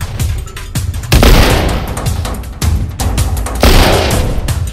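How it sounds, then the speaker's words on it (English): Loud, close gunfire erupts in The Last of Us Part II, with several heavy bursts of rapid shots and booming reports in quick succession, each leaving a ringing tail before the next volley. "stop shooting me"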